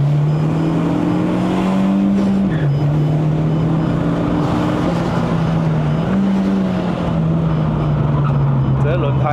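Mitsubishi Lancer GT with the 4B11T engine and a five-speed manual, revving steadily under load as its tyres spin for grip on a mountain road run. A loud, continuous engine drone dips briefly around gear or throttle changes.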